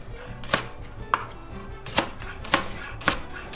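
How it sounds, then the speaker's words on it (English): A knife slicing through a leek on a cutting board, six crisp, evenly spaced chops close by, each a sharp thud against the board. "I'm going to just go ahead and start slicing this like so."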